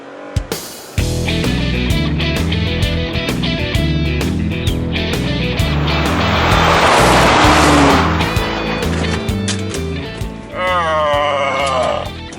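A 2019 Ford Ranger with a turbo four and a Toyota Tacoma V6 racing hard after launching off the line, engines roaring loud and close with shifting pitch and a squeal of tires near the end.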